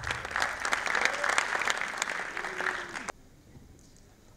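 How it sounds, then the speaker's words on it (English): A contest audience in a hall claps loudly and steadily for about three seconds, then the applause cuts off abruptly into a quiet room. "Can we give them a round of applause?"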